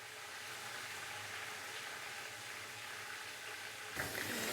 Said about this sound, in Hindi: अदरक और लहसुन के पेस्ट को हम तकरीबन 35 से 40 सेकंड के लिए हल्का सा फ्राई कर लेंगे